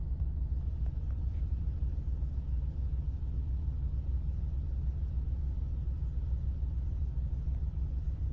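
Car driving slowly around the block, heard from inside as a steady low engine and road rumble that stays even and unbroken throughout, with no talking.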